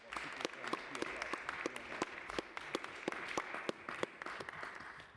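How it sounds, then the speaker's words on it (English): Scattered clapping from a modest group in the New York City Council chamber at City Hall, faint and somewhat distant, with distinct individual claps over a light, even patter. "We can clap for that, right?"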